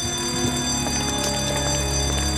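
A hotel alarm bell in Resident Evil Outbreak rings continuously, a dense metallic clanging that stays loud and steady throughout over game background noise.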